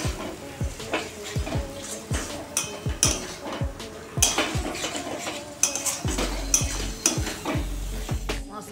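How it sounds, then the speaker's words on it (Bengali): Spice paste of coriander, cumin, turmeric and chilli being fried in oil and stirred for a chicken curry, with repeated scraping and clinking of a spoon against the pan over a soft sizzle, close and rhythmic. "মশলাটা ভালো করে কষে নেব, তেল ছেড়ে গেলে মশলা কষা হয়ে যাবে।"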